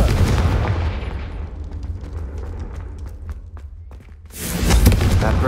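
Confringo fire spell exploding in the Hogwarts Legacy video game, a heavy rumbling blast that fades into a low crackling tail before a second loud booming burst near the end, with no speech.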